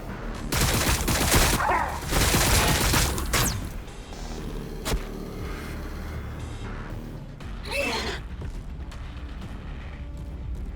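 Gunfire erupts in a Warhammer 40,000: Battlesector battle, with loud, dense volleys in the opening seconds, a sharp single crack mid-way and another burst later, set over a steady bed of battlefield rumble.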